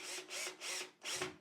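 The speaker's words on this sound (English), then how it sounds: "I'm going to drill pilot holes and then drive in some screws" A power drill boring pilot holes and driving screws into a plywood pantry cabinet, heard as four close, whirring bursts that rise and fall with short pauses between them.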